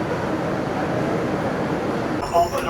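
Constant low rumble and rattle of a moving train carriage, with a brief clatter near the end.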